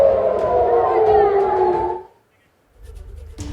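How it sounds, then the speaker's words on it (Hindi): A wailing air raid alert siren in Haifa, Israel, sounds loud and steady with a falling pitch sweep, then cuts off into a brief silence before faint background noise returns. "देखिए कैसे अलर्ट का सायरन बजा और फिर लोग छिपने के लिए इधर उधर भागने लगे।"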